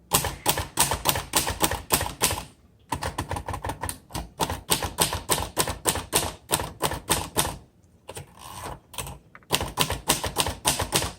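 A 1960 Royal Heritage vintage typewriter typed on hard and fast, loud close-up key strikes in rapid bursts with brief pauses between lines, no voices.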